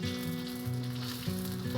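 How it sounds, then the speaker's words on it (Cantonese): Tofu pan-fries over medium heat in a flat-bottomed pan, giving a close, steady sizzle broken by a few brief clatters as pieces shift. "咁而家咧就開始煎個邊"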